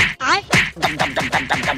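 A duck quacks loudly and nearby in a rapid series of nasal calls, about six in under two seconds.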